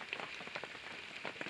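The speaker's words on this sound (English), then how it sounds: "it's pouring rain" Heavy pouring rain drums steadily on a tent at a windy lakeside campsite in the Thousand Islands, a dense close-up patter of drops with no voices.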